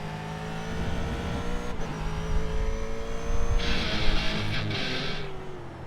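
An F3 race car in iRacing at Phillip Island drones steadily at high revs, its engine note loud and close, with brief tire squeal and shifting tone as it brakes and turns, no talk.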